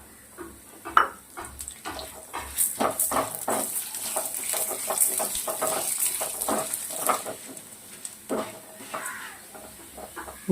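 Urad dal fries in hot oil for ginger chutney, a soft sizzle broken by repeated scraping stirs of a spoon against the pan, close by and without talking.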